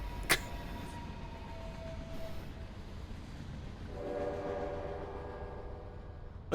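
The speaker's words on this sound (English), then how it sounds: "I'll start the train." A train in the video game Eternights rumbles along steadily, with horn tones sounding midway and a rising tonal whistle near the end over a continuous low rolling noise.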